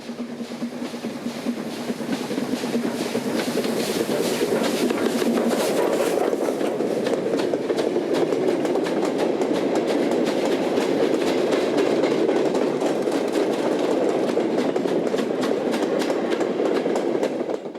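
A train runs steadily past at close range, with a continuous rolling rumble and rhythmic wheel clatter that holds at a loud, even level throughout.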